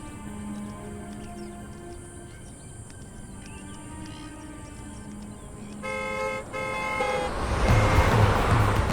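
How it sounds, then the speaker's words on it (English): Road traffic passes on a busy road near the coast, with several car horn toots ringing out over the steady roar of vehicles, which swells louder toward the end. "The alpha spots a lull in the traffic."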